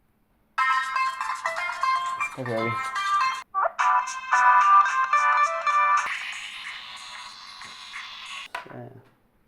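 Ringtone of the ID2ME ID1 device: a bright electronic melody of chiming tones lasting several seconds and changing timbre partway through. A voice speaks briefly in the middle and at the end.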